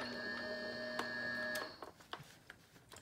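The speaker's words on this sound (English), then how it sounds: "run it through my die cutting machine" A die cutting machine feeds paper through with a steady mechanical whir and faint tones for about a second and a half, then stops, leaving soft clicks and handling noises in a quiet room.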